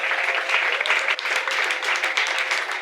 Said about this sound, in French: pendant qu'il avance aussi, on peut applaudir